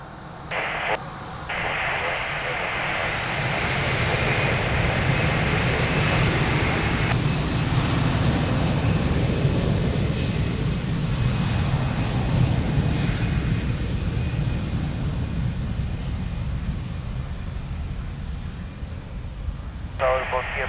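A jet airliner at Lisbon Airport powers up and rolls for takeoff on runway 02, a loud sustained engine roar building and holding steady throughout, with air traffic control radio talk over it.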